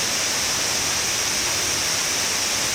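A strong waterfall in a Chiapas canyon roars as a loud, unbroken rush of white water, heard close up from the bottom with no letup.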